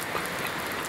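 Heavy rain falls in a steady, dense hiss with no pauses, close and loud, and no voices.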